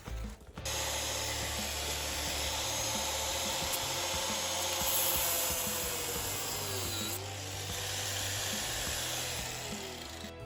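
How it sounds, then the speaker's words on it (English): An angle grinder cuts through the seized inner bearing race of a Ski-Doo snowmobile idler wheel, giving a steady, loud, continuous grinding whine that runs nearly the whole time, alone with no talking. "I'm just gonna grind through this to relieve the tension"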